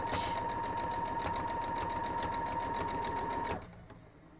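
Sewing machine stitching a close hem on a cloth napkin, a fast steady mechanical whir and rhythmic needle clatter running continuously for about three and a half seconds, then stopping.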